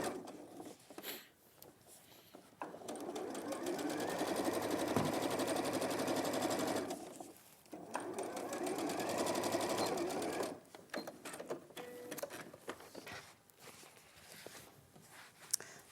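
A sewing machine stitches along a folded piece of fabric in two sustained, fairly loud runs, separated and surrounded by quieter handling sounds.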